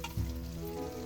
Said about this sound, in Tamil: குழம்பு கொதிச்சு விட்டது.